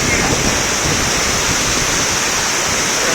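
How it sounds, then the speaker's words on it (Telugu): Water gushes steadily from the Koilsagar project outlets during a trial run, a loud, continuous broadband roar with no breaks from start to finish. "కొడుతూనే ఉన్నాయి సార్ వాటర్. ఆపట్లేదు."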